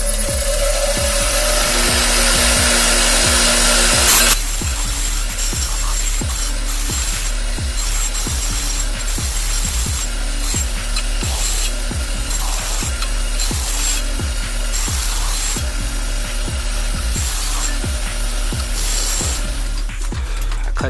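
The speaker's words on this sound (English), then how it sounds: "So I'm gonna start sanding this now." Steady abrasive grinding of a power sander putting a bevel on a metal exhaust pipe, a loud continuous whine with regular scraping pulses throughout.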